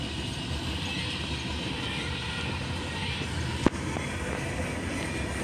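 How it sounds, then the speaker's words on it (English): A train rolls past the Whalen Road railroad crossing, a steady broad rumble with wheel and wagon noise holding level throughout, broken by one brief sharp clank partway through. "there's a train going by."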